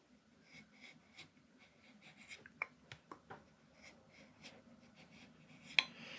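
Tool cutting flutes into the wall of a clay pot on a pottery wheel, faint scraping strokes and a few sharper clicks in an irregular rhythm, quiet and close with no talk.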